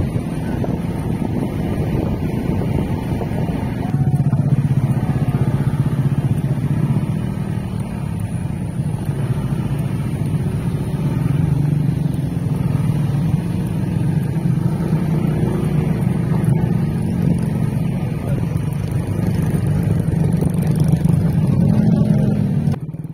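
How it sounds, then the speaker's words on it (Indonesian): A Honda ADV 160 ABS 2024 scooter rides along a sandy road toward a beach, its engine droning steadily with rising and falling throttle under heavy wind rumble, with no talking. "Di jalan berpasir seperti ini, HSTC di motor ini berjalan ya."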